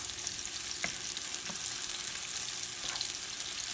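Sweet peppers sizzle in a hot pan while being stirred and moved around, a steady quiet hiss with a few soft scraping knocks from the utensil and no talking.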